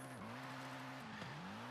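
Car engine note from Forza Horizon 5 during an inertia drift (manji), revving steadily with pitch swings as the car is thrown side to side, tire noise underneath, no talking.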